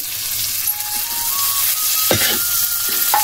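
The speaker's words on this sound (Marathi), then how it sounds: "आता बटाटे टाकी ते परतायला. मिरची टाकली परतायला. आता परतू घेते." Potatoes and green chilies sautéing in a pan make a steady close sizzle and fry, with a few scraping stirs near the end.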